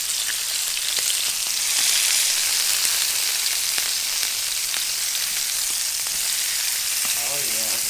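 Alfonsino fish fries with garlic in olive oil in a pan, a loud, dense, continuous sizzle close by with occasional crackles and pops, and a brief voice near the end.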